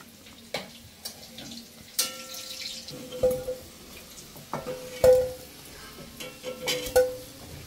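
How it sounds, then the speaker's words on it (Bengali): Half-boiled potatoes fry in a pan with a soft sizzle, broken by repeated scraping and clinking strokes of a spatula and a few sharp squeaks. "আলুগুলো সব একে একে এইভাবে সব ভেজে নেব"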